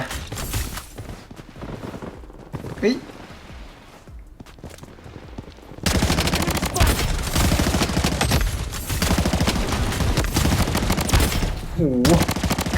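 Gunfire from the video game Blood Strike, first scattered shots over a quieter stretch, then loud continuous rapid automatic fire filling the second half, with some background game sounds and a voice now and then.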